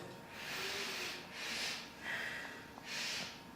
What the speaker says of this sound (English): I'm going to give this a quick sniff.